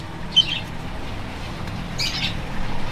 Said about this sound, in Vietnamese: con vẹt trắng kia bị hiếm kìa